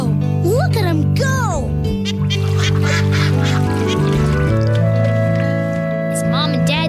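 Cartoon ducks and a duckling quack and honk in bright, repeated calls, loud and close, alongside speech.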